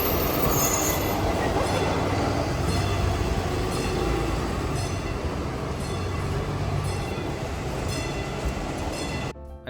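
A trolley ride in Monterey, with continuous rumbling wheels and rail noise, occasional high squeals from the wheels, close and loud throughout before an abrupt cut at the end.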